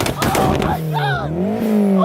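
A burst of loud, rapid exhaust pops and bangs from a roadster shooting flames, followed by the engine revving up and holding a high, strained note, with excited voices over it.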